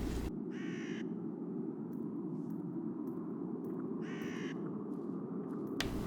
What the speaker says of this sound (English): You scared away the birds